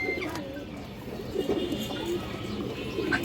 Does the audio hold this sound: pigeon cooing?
yes